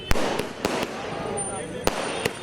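Firecrackers burst in sharp, loud cracks at an election victory celebration, about six scattered pops over a steady crowd din and background chatter.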